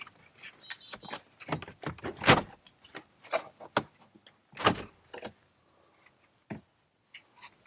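Plastic trim panel clips are pried out of a GMC Yukon interior, a series of close, sharp plastic clicks and snaps at irregular intervals with quiet pauses between them.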